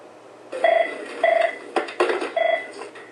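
Telephones in congressional offices at the Capitol ringing, short repeated electronic trill bursts, loud and close, with brief office clatter between rings.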